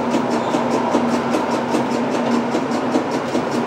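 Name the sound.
model train passing on layout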